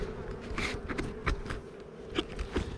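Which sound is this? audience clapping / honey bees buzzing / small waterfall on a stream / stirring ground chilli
honey bees buzzing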